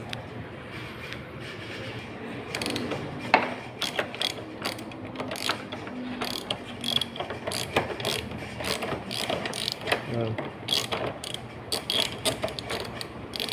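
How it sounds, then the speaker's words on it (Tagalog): A 10 mm socket ratchet clicks in quick, uneven bursts while unbolting the rear signal light on a Honda Zoomer X 110 scooter, close up with some handling noise between the runs. "nasa 10 mm na po na socket yung gagamitin ninyo sa pabaklas nito"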